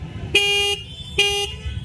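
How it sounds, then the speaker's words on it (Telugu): The horn of a 2024 Triumph Speed T4 motorcycle gives two loud, clear, short honks about a second apart, heard alone against a quiet background. "అండ్ హారన్ కూడా ఒకసారి వినండి"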